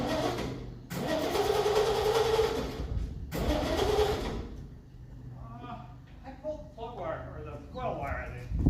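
A 1963 Studebaker Champ pickup truck engine cranks in two long bursts of starter grinding, broken by short pauses, then gives way to people talking over a low idle.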